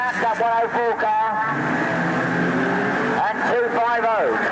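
Race cars lapping at Ringwood Raceway in 1986, engines droning and rising into a bend, with a commentator talking over the roar throughout.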